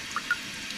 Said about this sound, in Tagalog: Pero tumutulo to, tumatagas eh.